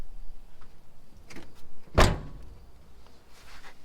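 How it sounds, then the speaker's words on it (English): A Honda Civic car door, a 2000 model under rust repair, swings shut with a single solid thunk near the middle, preceded by faint handling noises in an otherwise quiet garage. "Let me move this so I can close the door."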